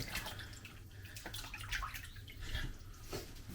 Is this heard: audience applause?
no